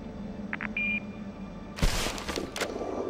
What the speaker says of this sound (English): If you leave a message after the beep